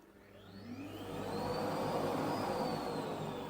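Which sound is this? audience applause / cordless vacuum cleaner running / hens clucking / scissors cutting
cordless vacuum cleaner running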